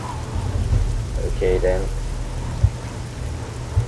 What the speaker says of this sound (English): it's raining just here.